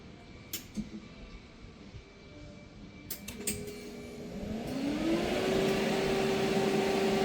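A refrigerant recovery machine drawing freon out of a car's AC system, on a Kia Sorento, starts after a few ticks and clicks, then builds into a loud steady motor hum with a rising tone that settles into a constant drone.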